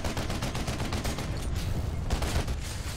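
Rapid, dense gunfire from a multiplayer battle in the video game PlanetSide 2, a steady continuous barrage with overlapping shots that runs loud for the whole stretch.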